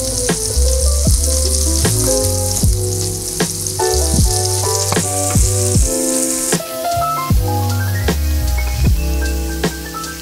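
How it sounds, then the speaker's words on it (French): Vegetables cook in a sauce of soy sauce, mirin and sake for a Japanese New Year osechi dish, giving a steady sizzle that runs continuously under loud background music. "Pour cuire un petit peu les légumes"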